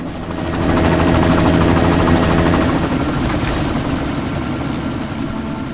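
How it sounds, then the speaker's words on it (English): Helicopter in Deus Ex: Mankind Divided, a loud continuous rotor roar and rumble swelling in and holding steady for several seconds, close and dominant with no talk. "You've got to stop that chopper."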